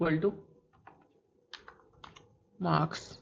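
Python code is typed on a computer keyboard in short, irregular clusters of clicking keystrokes, close and clear, with a voice talking over part of it.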